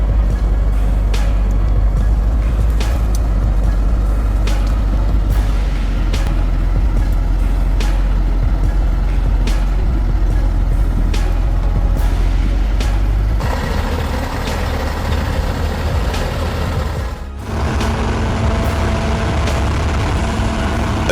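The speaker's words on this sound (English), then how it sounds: "A giant dump truck lumbered in, its brakes screeching. The engine roared" A giant dump truck rumbles close by with a deep, loud engine roar that holds steady, then shifts as the load changes, with a sharp hiss and squeal of brakes near the end; no voices.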